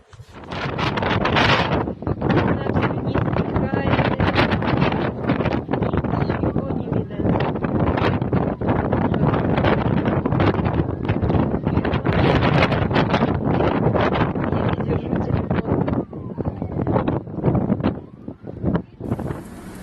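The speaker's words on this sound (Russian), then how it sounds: "Вот это ветер, буранчик." Strong blizzard wind at Tobol station, Kostanay region, Kazakhstan, in April roars continuously, buffeting the microphone with a loud, unbroken rushing howl from start to finish.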